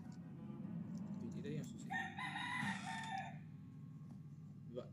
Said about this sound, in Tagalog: ingay ng mga manok dito ha.